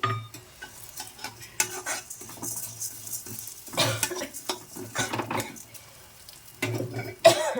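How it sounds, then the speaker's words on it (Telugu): Toor dal stirred in hot oil in a pan gives soft sizzling under repeated scraping and clinking of a spoon against the pan, with intermittent louder stirs. "అదే ఆయిల్లో ఇంకా ఆయిల్ వేయక్కర్లేదు సరిపోతుంది జస్ట్ పప్పు వేగడానికి"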